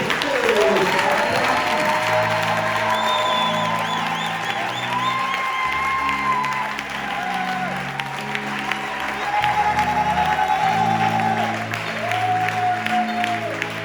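A church congregation applauds and cheers God during a lively worship service, the clapping dense and continuous while organ or keyboard chords and voices carry on beneath it.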